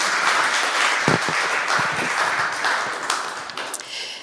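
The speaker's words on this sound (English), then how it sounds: "Thank you, and an applause." An audience at a launch event in Estonia applauds in a loud, sustained burst of clapping with a few sharper individual claps, gradually thinning toward the end, and no one speaks.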